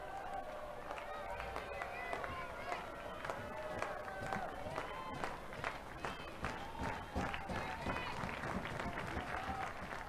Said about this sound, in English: Crowd clapping in Knoxville.